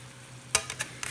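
Hamburger steaks browning in a frying pan, heard as a low steady hum broken by a few short bursts of sizzle and stirring scrapes, close and fairly quiet with no talk.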